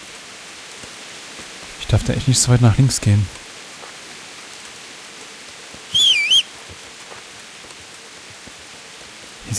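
Steady rain hisses in the background of Kingdom Come: Deliverance, a constant wash under short bursts of a man's speech and a brief whistle-like sound.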